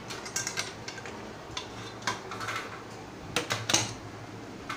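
A metal rice vessel lifted out of an opened pressure cooker after plain rice has cooked, giving a few light clinks and scrapes of metal on metal, spaced irregularly and fairly close, with no voices.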